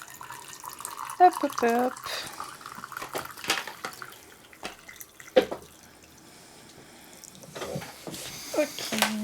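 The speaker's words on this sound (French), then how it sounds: "Allez, je vais faire chauffer de l'eau" Tap water runs into a kettle in a home kitchen to be heated for an herbal infusion. The flow is fairly quiet and stops and starts unevenly, with clinks and handling noises, and a voice speaks briefly over it.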